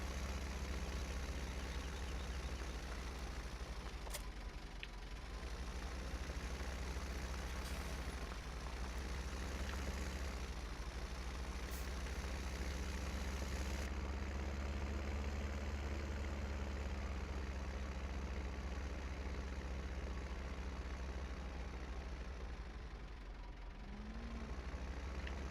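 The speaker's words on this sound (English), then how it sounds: "this tractor I'm driving right now, this Zetor" Zetor tractor engine from the video game Farming Simulator 17, a low steady diesel drone while driving, continuous and fairly even in level with occasional faint clicks and hisses.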